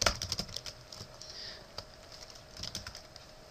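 An IP address is typed on a computer keyboard. Close, crisp key clicks come in quick, uneven bursts with short pauses between them, and no one speaks.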